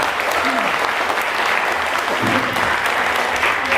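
Sustained, loud applause from a big crowd at a political rally in Indonesia, dense clapping running the whole way with brief shouts and voices mixed in.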